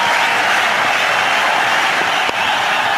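A cricket stadium crowd claps and cheers for a batsman's hundred, a continuous wash of applause holding steady, with a brief dip near the end.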